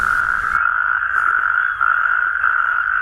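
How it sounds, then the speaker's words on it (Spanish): Natterjack toads call near water in the wetlands of La Mancha, a loud, continuous ringing trill that holds steady throughout with no pauses or voices. "los sapos corredores salen a miles buscando el agua."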